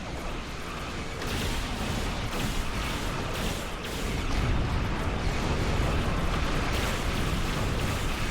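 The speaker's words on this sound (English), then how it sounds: "I think they have artillery." Heavy artillery barrages in the Star Trek Online space combat game, a dense continuous rumble of booming blasts and bursts filling the whole stretch, loud and sustained with no talk.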